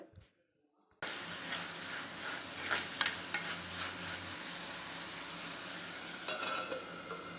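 Tomatoes sautéing in a pan for a lunchbox dish, a steady close sizzle with stirring scrapes, stopping briefly near the start and thinning a little toward the end.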